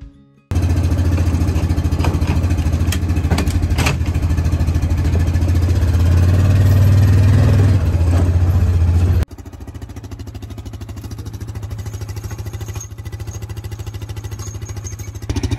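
A side-by-side UTV engine idling on a farm, a loud steady rumbling drone that drops to a quieter, smoother idle partway through, with no talk.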